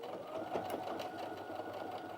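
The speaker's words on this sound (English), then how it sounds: "not only has it sewn through it really well, there's no skip stitches" Brother Innov-is F560 sewing machine runs a steady, even line of stitches through fabric, a soft continuous whirring hum close by throughout.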